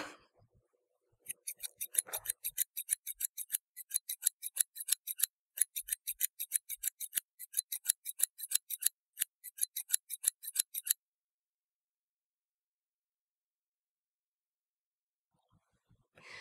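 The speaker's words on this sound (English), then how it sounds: "Today, I'm going to be old-fashioned and just use some scissors." Scissors snip in a quick, steady run of crisp cuts, close and clear, then stop, leaving near silence.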